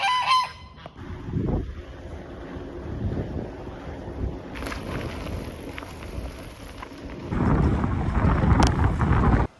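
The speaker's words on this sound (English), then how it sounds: "Some nice geese." Geese honk in a park beside a train line while a bike ride pauses there, with a few calls near the start set against steady wind noise buffeting the microphone, and no talking.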